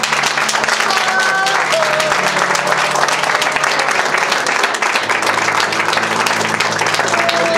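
Congregation at a French-language deliverance church service applauding steadily, dense continuous clapping filling the room with faint voices mixed in.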